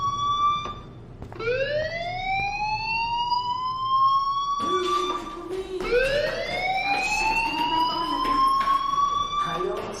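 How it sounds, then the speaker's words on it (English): A fire alarm in the game Life is Strange wails in rising, repeating siren sweeps, loud and continuous, restarting partway through with a brief dip between cycles. "Hey, do you hear that fire alarm?"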